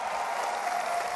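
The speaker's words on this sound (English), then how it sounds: "So give yourself a round of applause for being here." A crowd applauds at the OnePlus 6 launch event in Mumbai, India: steady, even clapping that fills the hall, sustained and fairly loud throughout with no voice on top.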